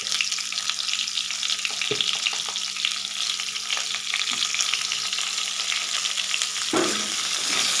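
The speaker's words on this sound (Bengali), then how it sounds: "দিয়ে আলুটা একটু লাল লাল করে ভেজে নিচ্ছি" Potatoes fry in a pan with a pinch of salt and turmeric, a steady close sizzle broken by a few spatula scrapes and stirs.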